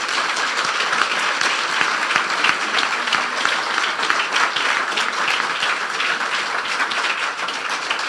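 Church congregation applauding loudly for Jesus during a sermon, dense steady clapping continuing without a break throughout.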